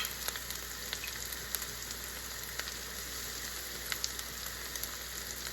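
Bitter gourd (kaakarakaya) pieces frying in oil in a pan, a steady dense sizzle with scattered small pops and crackles, close and even throughout, without voices.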